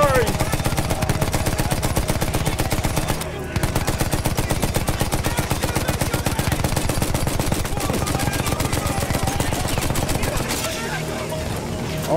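Rapid automatic gunfire from the World War I shooter Battlefield 1 rattles on loudly and continuously, with a brief break early on before the fire resumes and fades slightly at the end.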